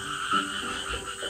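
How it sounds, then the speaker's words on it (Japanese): A frog croaks near a strawberry nursery field in summer, a short run of repeated croaks over a faint outdoor background. "カエルが鳴いてる。"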